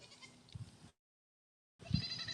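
Goats in a barn let out bleats, two close, loud bursts of calls separated by a short stretch of silence.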